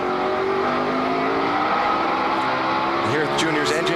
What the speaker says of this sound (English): Junior's engine just jumping in RPM, spun the tires a little bit off the corner